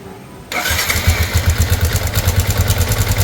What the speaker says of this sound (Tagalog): Paandarin natin ha, bago natin buksan yung makina.